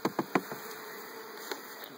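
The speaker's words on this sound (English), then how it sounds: "I've got bees everywhere." A steady buzz of bees swirling around a captured swarm close by, a continuous insect hum with a few soft knocks and taps standing out at the start.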